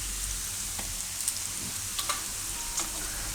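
Coriander-cumin powder and asafoetida sizzling in hot oil: a continuous close, hissing fry with a few faint clicks and taps of a spoon against the pan.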